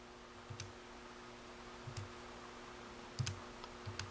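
Keys pressed on a graphing calculator while entering an equation: faint, scattered plastic clicks, some single and some in quick pairs, over a low steady hum.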